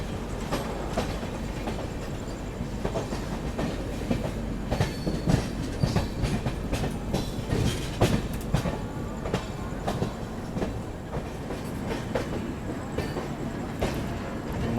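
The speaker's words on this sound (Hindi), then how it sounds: "चलिए फाइनली मालदा टाउन स्टेशन में हमारी एंट्री जो है ना वो हो रही है अब" Darjeeling Mail passenger train rolling into Malda Town station, a steady rumble with rhythmic clickety-clack of wheels over rail joints and occasional metallic clanks, continuous and close from inside the carriage.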